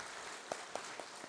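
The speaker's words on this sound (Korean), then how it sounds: "박수하시겠습니다." A church congregation gives a brief, faint round of applause, with a few scattered claps standing out over a soft hiss.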